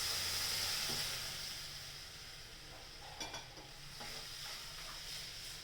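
Dal poured into hot tempering over full gas sizzles with a loud hiss that starts strong and settles into a steady, softer frying crackle with a few clinks.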